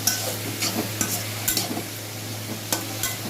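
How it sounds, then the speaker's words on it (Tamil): Tomato thokku with rock salt sautéing in a pan, a continuous frying sizzle broken by regular scraping strokes of a spatula, close and moderately loud with a low steady hum beneath. "இது வந்து இப்போ நல்லா வதக்கி விட்டுடலாம்."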